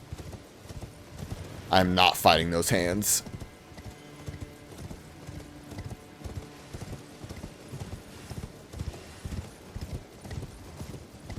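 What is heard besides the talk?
horse galloping in video game Elden Ring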